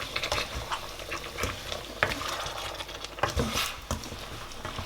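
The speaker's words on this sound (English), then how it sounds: "I'm gonna stir that very well." Beef stir fry with chili being stirred in a pan, soft scraping and clinking of the utensil over a low sizzle, quiet and close with irregular taps.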